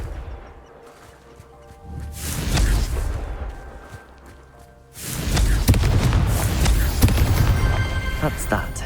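A Confringo fire spell bursts in Hogwarts Legacy, a loud rumbling explosion followed by a longer, heavier blast with crackling debris that fills the rest of the moment.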